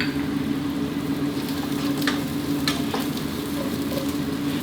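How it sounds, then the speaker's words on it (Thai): Steady loud sizzling of shiitake, eryngii and white mushrooms stir-frying in hot oil, with occasional scrapes and stirring clatter from a pan. "เห็ดหอม เห็ดออรินจิแล้วก็เห็ดลิ้นขาวครับนี่นำลงไปผัดกันเลยนะครับ"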